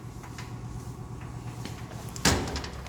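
A metal electrical box door for a display measurement system swings shut with one sharp clunk near the end, after a quiet stretch of low hum and faint room noise.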